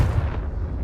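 A Confringo spell blasts off in Hogwarts Legacy, a short booming explosive burst with heavy low rumble that quickly fades into a steady roar.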